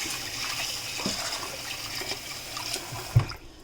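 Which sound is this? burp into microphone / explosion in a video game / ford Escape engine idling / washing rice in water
washing rice in water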